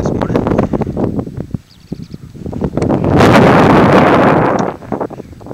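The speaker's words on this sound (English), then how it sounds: "There's a breeze right now that is going right through these fleece trousers" A breeze blows across a frosty mountain wild camp in the Brecon Beacons, with rough wind buffeting the microphone that swells into a loud, sustained gust in the middle, while someone talks over it.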